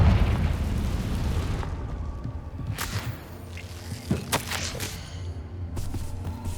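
A Confringo spell blast in the video game Hogwarts Legacy: a loud booming burst with a rushing, crackling tail, followed by a few sharper pops and smaller bursts spread across the clip.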